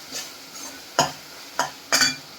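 A spoon scrapes and stirs thick, dried-down masala sizzling in oil in a pan for matar paneer, with a few distinct close strokes against a soft background sizzle.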